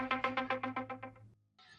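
A phone rings for an incoming call, a rapid run of about nine bright electronic chirps in quick rhythm, clear and close, then a brief pause and a softer tone; no speech.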